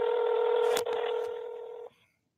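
A phone on speaker plays a steady ringback dialing tone, loud and even, with a brief click partway through before it cuts off near the end.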